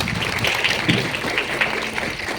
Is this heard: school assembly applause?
yes